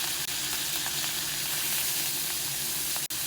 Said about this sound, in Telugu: ఆయిల్ హీట్ అయిన తర్వాత కొద్దిగా హాఫ్ స్పూన్ ఆవాలు అలాగే ఒక హాఫ్ స్పూన్ చీర కూడా వేసుకొని కొంచెం కరివేపాకు కొత్తిమీర కూడా వేసి